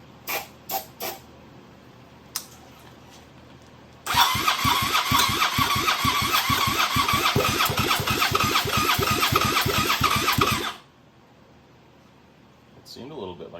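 A Suzuki SV650 motorcycle fitted with Hayabusa coils is cranked by its starter for about six seconds, a loud, steady rhythmic whirring chug that never catches, with brief clicks before it and silence after.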